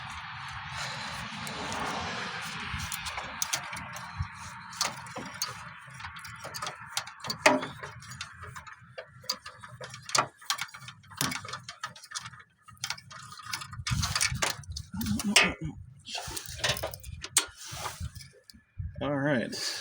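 Ratchet clicking in short bursts while loosening fender bolts on a 2007 Mercury Grand Marquis, close and crisp, with pauses, scattered knocks and someone talking between turns.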